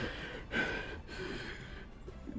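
A voice imitates a wounded tabletop-game character panting: a sharp gasping breath near the half-second mark followed by ragged, breathy huffs, close and fairly loud with no words.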